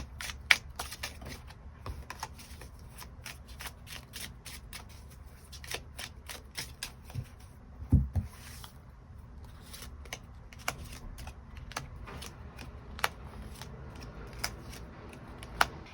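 Tarot cards being shuffled and drawn, a soft papery riffle with many sharp little card snaps spread across the stretch, close and quiet with no talk.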